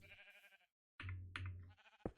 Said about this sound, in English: Sheep, see?